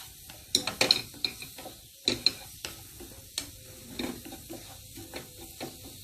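A spoon scrapes and clacks repeatedly against a pan while spices and sweet paprika fry, giving irregular close knocks over a soft sizzle.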